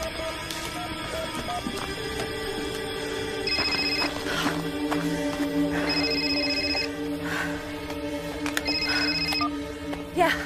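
A telephone rings in a tense submarine thriller, with repeated electronic trilling bursts in a regular pattern over a steady background hum, fairly close and clear.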